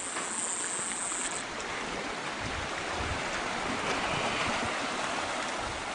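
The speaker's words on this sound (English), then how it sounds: "We're coming along the creek." A creek flows nearby outdoors, giving a steady, broad wash of running water that holds level throughout, with no talk over it.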